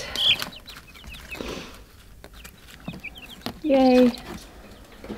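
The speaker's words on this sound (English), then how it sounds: "Here's some new chickens." Chicken clucks and short chick peeps come in scattered bursts, with one louder call near the end over a quiet, busy background.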